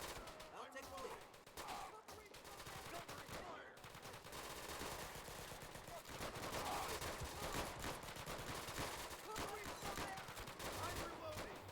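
Dense gunfire in the video game Easy Red 2 on a custom map: rapid bursts of automatic fire overlap almost without pause, loud and continuous, with occasional single shots cutting through.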